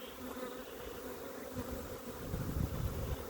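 Honey bees buzz steadily around an opened nuc box at an outdoor hive check, a dense continuous drone that swells a little louder toward the end, with no voices.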